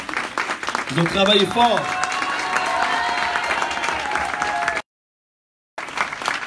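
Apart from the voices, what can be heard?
applause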